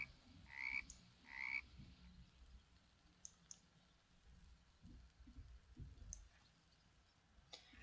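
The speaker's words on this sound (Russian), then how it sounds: "Вот, лягушки у нас заспавнились." Frogs croak in a video game, two bright chirping croaks near the start followed by a few faint clicks and soft thumps, all quiet against a hushed game background.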